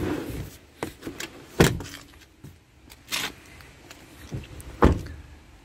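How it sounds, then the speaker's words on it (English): The second-row seat of a 2019 Skoda Kodiaq seven-seater is released with a pull and slides forward, giving a series of separate clicks, clunks and short mechanical thuds of varying loudness over a quiet cabin background. "Quick pull on there. Seats go forwards and you simply step in."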